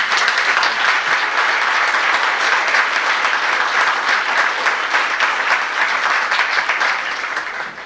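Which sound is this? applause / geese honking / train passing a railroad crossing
applause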